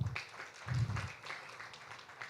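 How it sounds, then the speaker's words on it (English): An audience at a food systems pitch event in Uganda gives a brief, moderate round of applause for a commissioner, soft scattered clapping filling a hall for about two seconds. "A round of applause for Commissioner."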